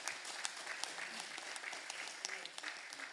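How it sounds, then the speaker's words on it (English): Congregation applause at a church celebration evening, a brief burst of many hands clapping, fairly faint and distant, with some voices mixed in. "Can we give Jesus a round of applause?"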